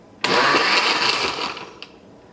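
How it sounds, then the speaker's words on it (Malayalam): A kitchen mixer grinder runs in one short burst of about a second and a half, blending lime juice with lime peel, then cuts off, leaving a brief clatter as it spins down. "ഞാൻ മിക്സി ഓണാക്കാൻ വേണ്ടിയിട്ട് പോവാണ്"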